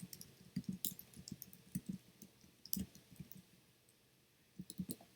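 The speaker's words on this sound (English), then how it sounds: "I'm typing the wrong thing." Computer keyboard typing during a quilting live stream, heard as a faint, irregular run of soft clicks and keystrokes in short bursts, with a brief pause near the end and no speech.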